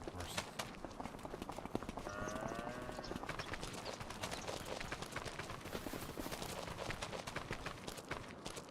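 Horses in the Farming Simulator 25 video game clop along in a quick, steady hoof rhythm, faint and close, with a brief tonal sound partway through.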